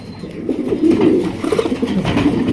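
Domestic pigeons of a fancy breed coo nearby in low, throaty, rolling bursts, several birds overlapping in a continuous, fairly loud murmur.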